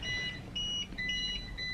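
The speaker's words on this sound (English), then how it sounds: "And there's a symphony of beeps." Several electronic devices beep at once during a building-wide power outage, overlapping high tonal bleeps repeating in an irregular chorus over a low background rumble, no talking.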